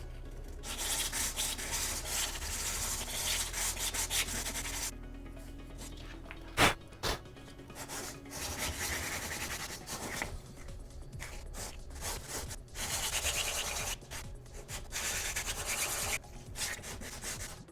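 Hand sanding of material for a Boba Fett left vambrace, heard as close, repeated rasping strokes in uneven rhythm with short pauses between passes and no voices.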